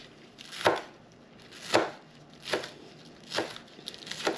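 Knife chopping through ingredients for kimchi jjigae on a cutting board, with five separate sharp chops spaced about a second apart, each crisp and close, heard alone with no talking.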